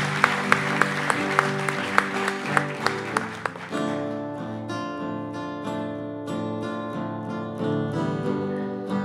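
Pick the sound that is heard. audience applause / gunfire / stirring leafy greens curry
audience applause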